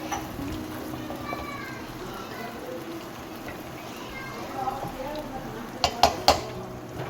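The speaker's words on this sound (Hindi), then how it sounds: "अभी हम इसको अच्छी तरह से मिक्स करते हैं" Chicken malai boti being mixed with fried onions in a pan, a steady soft stirring that ends in a few sharp metal clinks of spoon against the pan.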